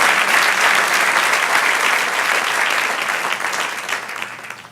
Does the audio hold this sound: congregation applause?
yes